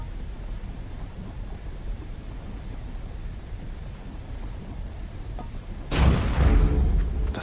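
A lightning strike from the Thunder God in the video game Hades erupts as a sudden loud crackling boom near the end, after several seconds of low rumbling ambience.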